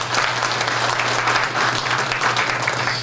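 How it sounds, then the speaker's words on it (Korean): Loud, dense applause from an audience at an industrial complex association's chairman inauguration ceremony, a short continuous burst of clapping with a steady low hum underneath and no speech. "아울러 박수 한번 보내주세요"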